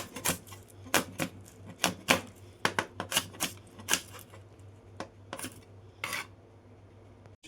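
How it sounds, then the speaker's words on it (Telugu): Capsicum is finely chopped with a knife on a board, producing sharp, irregular rapid taps close up, in clusters with brief pauses, with no talk during the cutting. "క్యాప్సం కూడా ఇలా కటింగ్ చేసుకోవాలి సైజు చిన్నపై కూడా ఇలా నైస్ కట్ చేస్తున్నామండి"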